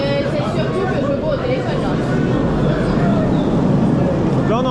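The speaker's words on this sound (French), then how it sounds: "on a entendu le train 1, il est bien passé pour l'instant" A loud, close roller coaster train at Parc Astérix rumbles past on its rails with squealing wheels, and excited crowd chatter and voices layered over the continuous noise.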